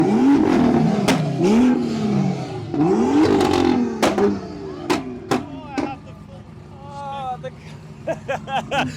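Cars start up and rev at a drag racing event, engines surging and falling in repeated rising sweeps with sharp pops and clatter, fairly loud and nearby, then quieter revs in the distance.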